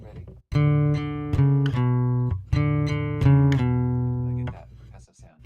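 Acoustic guitar blending plucked notes with percussive strums in a guitar lesson, ringing chords struck in a steady rhythm with sharp attacks, close and fairly loud, fading out near the end.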